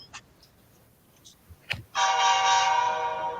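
Lego train sound effect played through the Powered Up app, a loud sustained horn-like tone that starts abruptly after a few faint clicks and holds steady to the end, close and alone.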